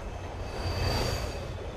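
A train runs along rails in a realistic horror video game, giving a steady low rumble with a faint high metallic whine above it. The sound stays even and moderately quiet for a brief moment, with no speech.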